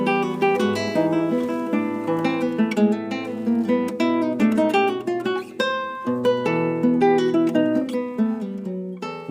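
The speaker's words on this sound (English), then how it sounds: "What you are hearing is Antonio Laro's Venezuelan Waltz, No. 2, performed by University of Alaska guitar instructor" Classical guitar plays Antonio Lauro's Venezuelan Waltz No. 2, performed by a University of Alaska guitar instructor, with a continuous flowing stream of plucked notes and chords in waltz rhythm, clear and close with no talking.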